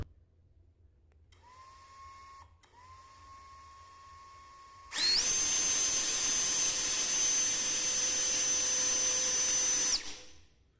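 A small brushless LXT 20V turbo jet fan whines steadily, then abruptly spins up to about 31,000 RPM with a loud, piercing high-pitched jet-like roar that holds for several seconds before cutting off.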